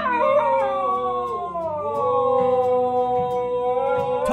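A husky dog howls loudly and close, in long, sustained, wavering tones with no pause, along with a man singing.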